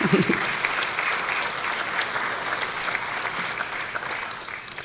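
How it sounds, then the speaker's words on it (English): Sustained applause from an audience at an award ceremony, steady clapping that carries on for several seconds and slowly tapers slightly. "Please join me in giving them a big round of applause."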